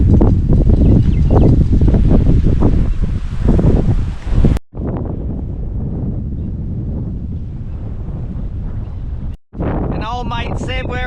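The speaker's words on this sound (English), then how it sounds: "that wind." Strong wind buffeting the microphone on a motorbike ride through farmland in Sri Lanka, a loud roaring gust that cuts out briefly twice, with a voice heard near the end.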